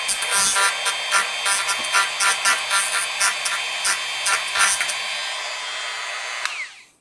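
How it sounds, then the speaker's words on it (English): A small rotary drill bites slowly into plastic potting compound on salvaged PC parts, a loud steady high whine with rhythmic stuttering pulses that winds down and stops at the end. "there you can see that's the little slot I've drilled, and I just went really, really slow"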